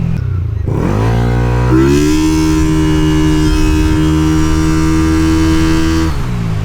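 A Yamaha Nmax v2 scooter engine revs loudly up to a high, steady pitch after a brief dip, holds there for several seconds, then drops back toward idle, close and alone.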